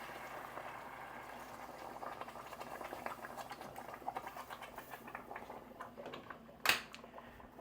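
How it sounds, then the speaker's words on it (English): Liquid sizzles and bubbles in a hot pot while seafood gumbo is cooked, a faint, steady crackling hiss with one brief louder burst near the end. "That's some sizzling goodness there."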